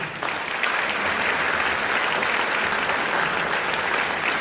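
A concert audience in Pärnu claps steadily and densely to welcome Sergei Bai, the festival mascot. The applause starts almost at once and holds at an even, loud level throughout.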